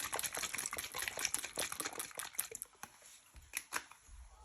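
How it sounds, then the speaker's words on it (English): Soy sauce splashes into a hot pan of beef, mushrooms and vegetables for a noodle dish, giving a crackly sizzling spatter with sharp irregular pops. "you'll also put in a few splashes of soy sauce"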